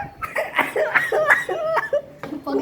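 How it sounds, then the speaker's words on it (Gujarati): Repeated coughing mixed with laughter at a family gathering, several bursts in quick succession, close and fairly loud. "ભાઈ એટલી ઉધરસ કા આવે."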